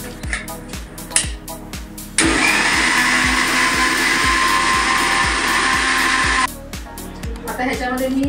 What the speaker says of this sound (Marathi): आता पहिला मी ना हे मिक्सरमधनं फिरून घेणार आहे